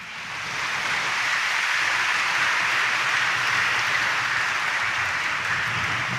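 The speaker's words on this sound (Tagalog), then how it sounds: "napakalakas ng palakpak ninyo ha" Church congregation clapping loudly during a Sunday Mass homily: dense, continuous applause that swells up within the first second and holds steady, with no talk over it.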